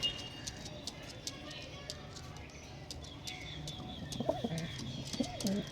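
Kalka Andra Lambari breed pigeons coo in soft low bursts near the end, over a quiet background of faint ticking and a murmuring voice.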